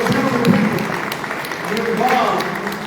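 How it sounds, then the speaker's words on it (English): A town hall audience in Marengo County, Alabama claps steadily for about three seconds, scattered hand claps spread across the room while voices talk over and under the applause. "Let's give yourselves an applause."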